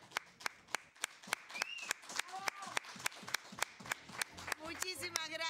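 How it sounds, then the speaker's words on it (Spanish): A small studio audience on a Havana television magazine show claps in a sparse, regular rhythm, the individual claps distinct and fairly quiet, with faint voices and some tonal sounds mixing in toward the end. "El aplauso en el estudio para Ana Nora Galaza."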